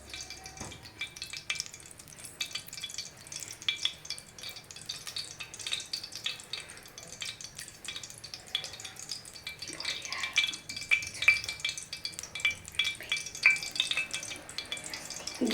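Ghee melting in a pan for mushroom biryani sizzles and crackles steadily, close up, with occasional soft stirring and light clinks of a utensil against the pan, and no talking.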